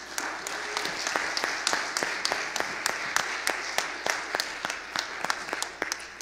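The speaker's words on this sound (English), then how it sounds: "Can we give God a hand clap right now?" A church congregation gives a steady round of applause, moderately quiet and slightly distant, with clear individual claps popping out in a fairly regular rhythm.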